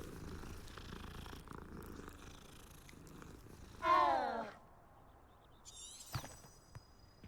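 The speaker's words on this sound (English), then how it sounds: "But I did have to stop and pet this really adorable cat first." A cat being petted purrs with a low, steady rumble, then gives one short, rising, higher-pitched call midway, followed by quieter chirpy sounds near the end; no one speaks.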